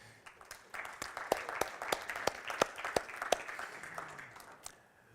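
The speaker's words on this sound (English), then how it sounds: "So please, a round of applause for Wolfgang and EIKE." A small conference audience applauds steadily, with individual claps audible and a few voices faintly murmuring underneath, fading toward the end.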